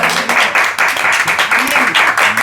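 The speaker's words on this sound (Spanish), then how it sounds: "Dale fuerte aplauso." Congregation applauding during a church service, dense rapid clapping close by and loud throughout, with voices mixed in.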